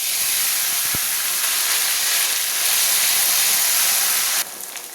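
Ground spice paste dropped into hot oil for a Bengali dahi mutton curry, giving a loud, steady broadband hiss and sizzle that holds throughout, then drops off sharply near the end.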